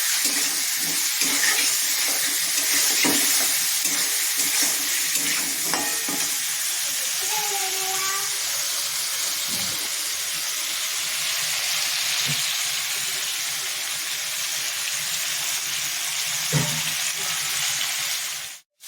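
Taro (gati kochu) being stirred and fried with turmeric in a pan for a rui fish curry, giving a continuous loud hissing sizzle with occasional spatula scrapes and knocks, close up and with no talking.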